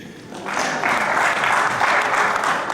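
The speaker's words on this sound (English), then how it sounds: "we can clap for that" An audience at a national labour convention and expo in Uganda breaks into applause, rising quickly from a quieter start into steady, dense clapping that holds loud and even for a few seconds.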